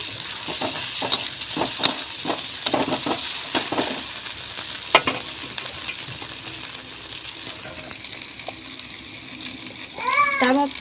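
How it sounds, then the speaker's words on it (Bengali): Chopped ginger, garlic and green chilli stir-fried in a pan: light sizzling with scraping and clinking spoon strokes in irregular bursts, close up, the stirring thinning out toward the end. "এখন এটাকে ভালো করে নেড়ে নেড়ে কষে নিতে হবে"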